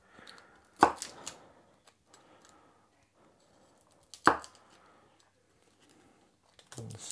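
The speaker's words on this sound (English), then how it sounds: "So we're going to top and tail the garlic." Knife topping and tailing garlic cloves on a cutting board, two sharp, distinct chops with faint handling noises between, quiet and close.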